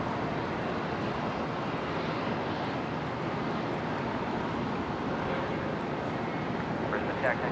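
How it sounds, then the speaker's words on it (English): A De Havilland Dash 8 turboprop takes off at Brisbane International Airport, its broad engine roar steady and fairly close, with a faint voice underneath. "The Dash 8 heading to Port Macquarie"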